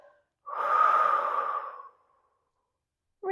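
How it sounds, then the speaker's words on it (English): A single strong breath out, breathy and close, lasts about a second and a half during a core exercise, with quiet before and after and a brief sound at the very end. "Exhale as you're pressing."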